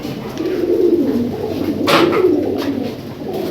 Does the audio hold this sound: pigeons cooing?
yes